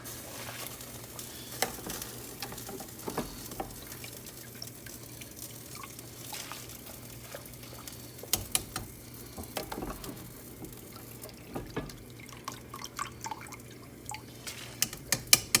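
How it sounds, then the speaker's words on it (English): Wet splashes and drips as shredded potatoes drop into boiling water, scattered irregular plops over a low steady simmer, close by. "I'll start adding my shredded potatoes to this boiling water."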